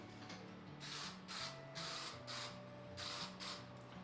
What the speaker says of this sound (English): we're just going to put a quick little